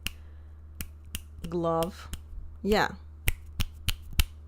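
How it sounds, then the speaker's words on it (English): Sharp finger snaps ring out one by one, about eight of them, scattered through a short span with brief talk in between, close and crisp over a steady low hum in a quiet room. "I can snap my fingers."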